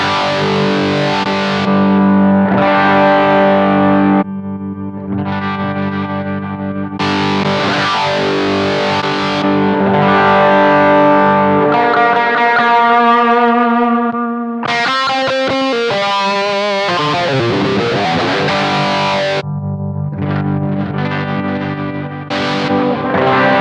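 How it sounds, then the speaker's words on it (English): Electric guitar played clean through a Headrush unit into a Bluguitar Amp1 with MIDI switching, loud chords and picked phrases with sudden tonal shifts as relays swap amps, no talking. "what you heard just then was the relay switching to the different amps"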